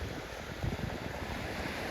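Sea waves wash steadily against the shore during lobster fishing, a continuous broad rushing roar with wind buffeting the microphone and no talk.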